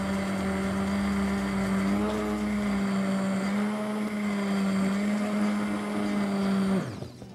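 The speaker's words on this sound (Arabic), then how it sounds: "نضربها بقى عشان البصل يروح" A blender whirs steadily, puréeing onion in a thickened chicken and spinach cream soup, its motor holding a loud, even whine before spinning down and cutting off near the end.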